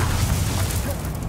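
A fiery Confringo spell explodes in Hogwarts Legacy as one loud, dense, rumbling boom that fills the whole brief moment.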